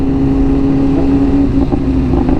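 Loud, close engine drone from a BMW S1000RR sport bike running a custom full exhaust with the catalytic converter gone, holding a steady high idle before brief throttle blips with faint crackles near the end.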